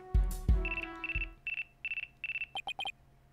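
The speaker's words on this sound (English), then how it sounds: "Looks like I have a phone call." A phone rings in the video game Phoenix Wright: Ace Attorney Dual Destinies, a clean electronic ringtone of short repeated tones after a couple of thumps, followed by a quick burst of chirpy blips.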